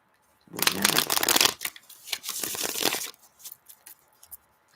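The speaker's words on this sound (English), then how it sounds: "All right, I'm shuffling, guys." Tarot cards shuffled by hand in a burst of riffling, papery flutters lasting about two and a half seconds, then a few softer taps and shuffles as the deck settles.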